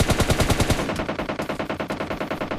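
Rapid automatic M4 rifle fire in PUBG Lite rattles out as a fast, even burst of sharp shots, heavy and close at first, then continuing slightly lighter for under three seconds, with no voices.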